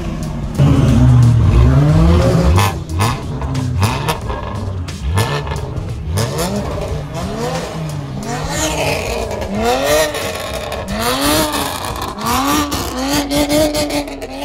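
BMW M cars drift and rev: loud engines repeatedly rise and fall in pitch through gear changes, with tyre squeal and skidding mixed in, several passes in quick succession.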